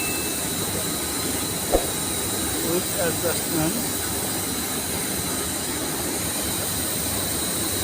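A textile dyeing and finishing dryer machine runs with a steady, loud broadband roar and hiss, and someone talks over it.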